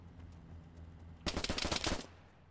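A burst of rapid gunfire in an online roleplay shooting game, about three-quarters of a second of fast repeated shots, loud against a quiet background.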